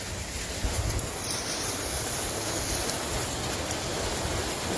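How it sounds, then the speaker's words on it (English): Hail and heavy rain pelting down outdoors during a thunderstorm, a steady dense roar with wind buffeting the microphone, loud and continuous with no voices. "We got hail. It's hailing."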